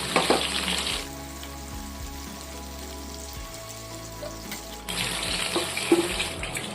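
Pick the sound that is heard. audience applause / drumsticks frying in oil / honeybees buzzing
drumsticks frying in oil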